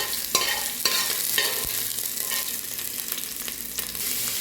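Garlic sautés in a pan for lomi, a steady crackling sizzle with occasional scrapes and clinks of a utensil stirring, close and continuous with no voices.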